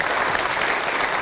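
A crowd applauds outdoors at a town crier competition during a tulip festival, with dense, continuous clapping that holds loud and steady throughout.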